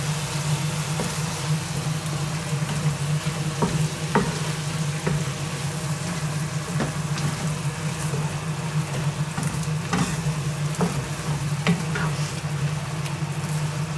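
Cream being stirred into a salmon pasta sauce in a pan: a steady low bubbling sizzle runs throughout, with occasional light spoon taps and scrapes against the pan, and no talking.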